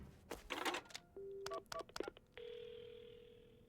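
Telephone keypad dialing at a phone booth in the Paranormasight video game, a quick run of beeping tone presses followed by a steady ringing tone that holds to the end, clean and fairly quiet.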